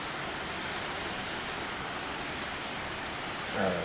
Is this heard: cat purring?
no